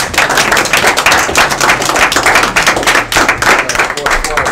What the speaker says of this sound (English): can we all just give one last applause for this program?